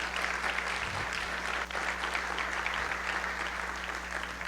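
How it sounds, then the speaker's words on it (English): A crowd applauds award recipients at a school district address, an even, steady wash of clapping that carries on for the whole stretch over a constant low electrical hum. "Let's give them a round of applause"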